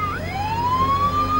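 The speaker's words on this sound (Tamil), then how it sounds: "சைரன் இல்லாம போக முடியாதா?" A loud ambulance siren wails nearby, its pitch sweeping steadily upward over a low engine rumble.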